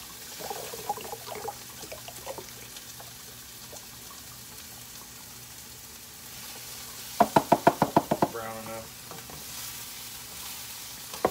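Organic beef stock poured from a box into a pot of green turkey chili in a home kitchen, heard as a quick burst of glugging splashes midway, close and fairly loud, against quiet kitchen background.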